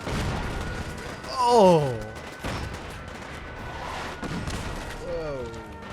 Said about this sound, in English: That's why we have artillery.